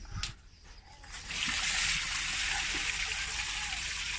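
Water scooped and poured outdoors while fish is cleaned for a Shan-style dish, a short clatter followed by a steady, close splashing stream that runs on to the end.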